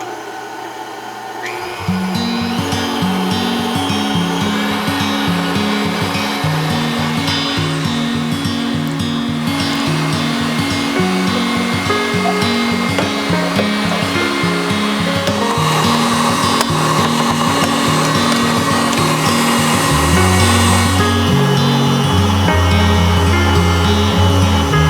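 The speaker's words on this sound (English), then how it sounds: "Now we're going to increase the speed of the whisking. We're going to put it in a high whisk" An electric mixer whisks marshmallow mixture at high speed, giving a loud, continuous whirring drone with a pulsing low hum that runs unbroken for the whole stretch.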